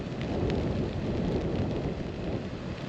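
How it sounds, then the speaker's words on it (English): A Lake District waterfall near Haweswater, running white after grey overcast weather, pours as a steady, dense rushing roar with no break or other sounds. "Thought I'd capture that waterfall for a few seconds."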